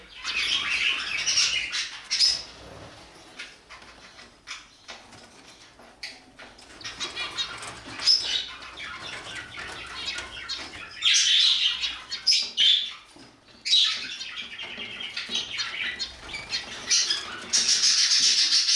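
Budgerigars in an indoor bird room chirp and squawk busily while eating egg food, a dense chatter of bright calls with bursts of wing flapping, close and continuous throughout, with no talking.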